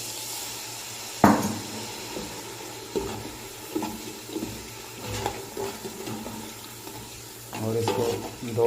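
Water poured into a pan of frying aloo brinjal sets off a burst of sizzling, followed by steady bubbling and frying with occasional stirring clatter, close and fairly loud.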